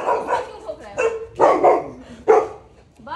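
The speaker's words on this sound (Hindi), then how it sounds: "अरे पांडा नहीं था वो, छोटा वाला भौंक रहा था भाई।" A small dog barks nearby in several sharp, repeated bursts, with short pauses between them.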